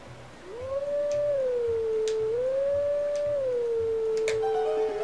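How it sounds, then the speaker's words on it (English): Wolf Link, the wolf form of Link in Zelda: Twilight Princess, lets out a long, clear wavering howl that rises and dips in pitch over several seconds, loud and close over a soft rhythmic game background. "I don't recall having to howl to get him."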